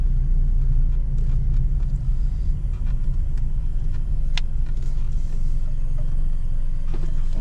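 Cars climb a hill on a tourist route, heard as a steady low engine and road rumble that stays fairly loud throughout, with no voices over it.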